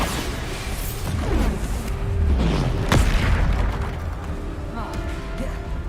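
A Bombarda blast spell going off in Hogwarts Legacy, heard as a loud booming explosion with whooshing sweeps and a sharp crack in the middle, over a dense, rumbling game soundtrack.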